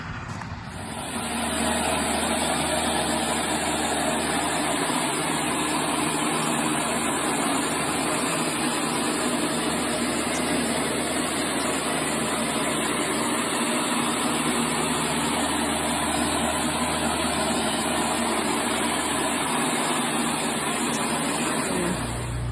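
A tractor cutting hay runs at a steady drone from a distance, a constant engine hum with a faint high whine, unchanging for the whole stretch and without any talking.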